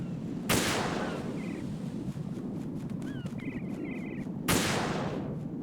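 Two sharp, loud gunshots ring out in Metal Gear Solid 2: Sons of Liberty, about four seconds apart, over a low ambient background with faint chirping game sounds between them.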